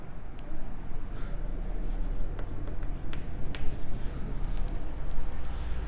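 Chalk or marker on a board during a class 9 geometry lesson on triangles, making scratchy strokes over a steady room hum and background noise at moderate level.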